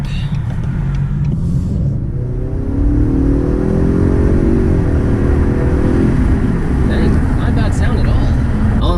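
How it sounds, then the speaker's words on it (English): A 2018 Ford Mustang EcoBoost engine revs up with a deep, rising roar, holding loud and steady as the pitch climbs, over a constant low rumble. "Let's hear what this car sounds like."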